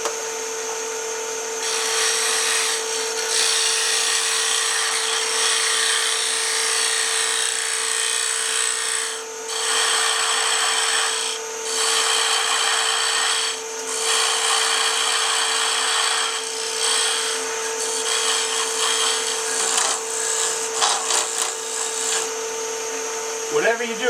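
A skew chisel cutting wood on a faceplate-mounted piece turning on a lathe, a steady whirring hum with repeated bursts of shearing, hissing cut noise separated by brief pauses.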